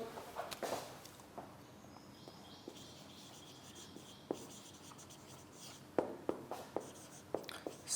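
Chalk or marker writing on a board during a classroom English lecture: faint, scattered scratching strokes and taps in short bursts, close by in a quiet room with no one speaking.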